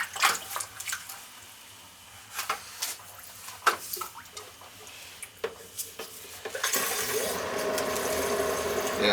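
Water gurgles and drips with scattered clicks as a Goodman air conditioner's condensate pump handles water, then a steady rushing hiss of water being pumped out takes over during the last seconds.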